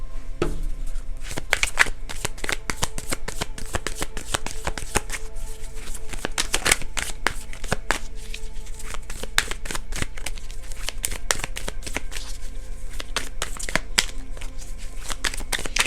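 Oracle cards shuffled by hand in a dense run of crisp riffling and snapping clicks, close and steady throughout with no talking.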